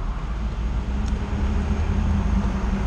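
A Toyota Rush drives past nearby on the road, heard as a steady moderate rumble of engine and tyre noise with no talk, giving a continuous traffic wash for a few seconds.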